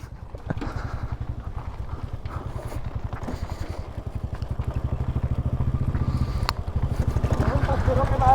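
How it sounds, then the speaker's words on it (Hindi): A Royal Enfield motorcycle engine runs quietly with a steady, even low thumping pulse that grows slightly louder toward the end, while people talk over it. "Ever heard a Royal Enfield this quiet, bro?"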